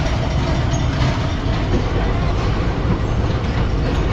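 A Thal Express passenger train hauled by an HVU diesel locomotive thunders past close by, a loud, dense, steady roar of wheels and coaches with rhythmic rail clatter throughout.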